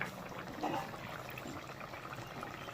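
Curry simmers and bubbles in a pan, a steady low wash of boiling liquid with faint gurgles, close and fairly quiet, with no voices.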